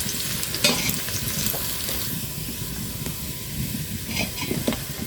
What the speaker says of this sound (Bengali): ফাইনালি আমার রসুনটা আর হিংটা ভাজা হয়ে গেছে